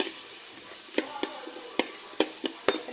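Drumstick (moringa) leaves sautéing in a pan for a curry: a soft background sizzle broken by several sharp spatula scrapes and clacks at irregular intervals, with no voices.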